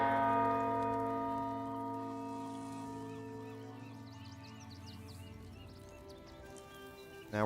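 A bell struck in the Baldur's Gate 3 video game rings out with a loud, rich metallic toll that decays slowly over several seconds.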